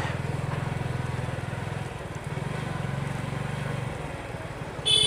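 A motorcycle riding along a road near Zakiganj in Sylhet, heard as a steady close engine drone with rhythmic pulsing and wind noise, easing slightly midway.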